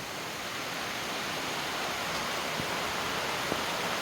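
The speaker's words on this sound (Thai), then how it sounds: "ฝนตกแล้วจ้าฝนตกแล้ว" Rain pours down as a constant, even hiss of moderate loudness, with a couple of faint isolated taps and no voices.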